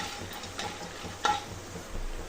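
Chana dal and urad dal frying in a pan, a quiet sizzle with a few light scrapes and clicks of a stirring spoon, brief and close, no talking.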